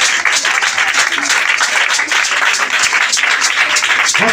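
A church congregation applauding to acclaim Jesus, giving dense, sustained clapping from many hands that fills the room evenly, with a voice audible near the end.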